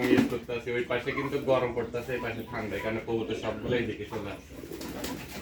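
Pigeons coo steadily in a foam-insulated pigeon house on a farm, soft throaty calls running throughout beneath someone talking close by.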